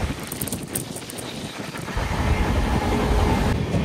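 The Visakhapatnam Weekly SF Express, train 22802, rolls along with a steady, loud onboard rumble, heavy wind buffeting swelling toward the end.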